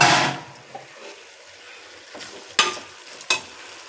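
Mixed vegetables sautéing in a pan give a soft hiss after a louder opening burst, broken by a few sharp clinks and scrapes of stirring, with no voices.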